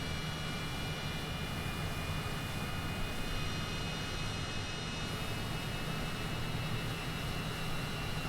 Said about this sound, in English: So both engines are up and running.